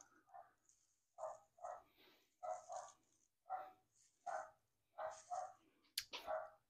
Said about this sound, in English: can you hear the dog in the microphone?